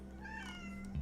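A cat gives a single short meow close by over a steady low hum, lasting about a second.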